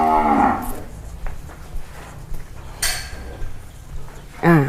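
A cow lows loudly at the start on a cattle ranch in Chamni, Buriram, Thailand, with a second short moo near the end and faint rustling and thin handling clatter in between.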